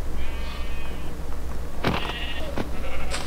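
Sheep in the Minecraft video game bleat in short, wavering synthetic cries over a steady game background hum, with a few sharper clicks and effects following.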